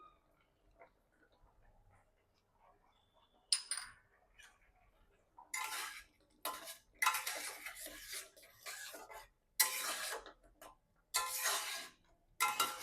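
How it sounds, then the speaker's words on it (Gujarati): A spoon scrapes and clinks against a pan while semolina sheera is stirred: quiet light ticks at first, then repeated louder scraping bursts in an uneven rhythm, close by. "શીરાને આ રીતે આપણે હલાવતા જવાનું છે."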